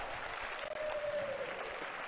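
Steady audience applause fills a badminton match arena, a dense, continuous wash of clapping that holds at an even level for about two seconds, with a brief faint whistle-like tone riding over it.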